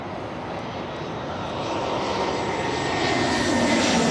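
An airliner roars down runway 23 at Toronto airport on takeoff, a loud, continuous jet engine rumble and hiss that builds steadily, heard from a distance without speech.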